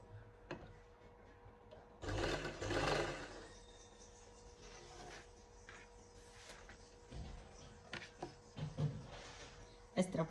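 A sewing machine runs in short bursts while stitching the shoulder seam of a lined shirt, its whirr rising and stopping between pauses, with a person talking throughout.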